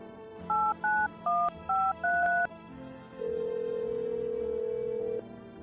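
In a video game, a telephone number is dialed as five short beeping keypad tones in quick succession, followed by a longer steady tone, clear and alone.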